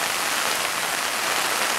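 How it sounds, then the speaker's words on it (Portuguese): Heavy rain falls without pause in Sarandi, Paraná, a dense, steady hiss of water striking surfaces that holds at an even level throughout, with no voices. "Está chovendo desde ontem. Sem parar."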